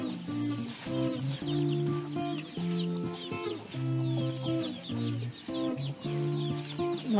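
Chickens on a Philippine farm cluck and call steadily in a busy, overlapping flock chatter, fairly close and continuous throughout.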